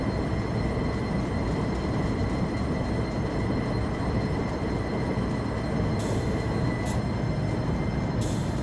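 A steady, loud rumble of a train running along tracks in a video game, dense and continuous, with a few brief high squeals near the end.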